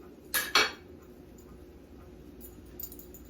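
Hot water cornbread flipped in a frying pan: two quick metallic scrapes of a utensil against the pan, close and clear, then a soft steady background hiss with faint clinks.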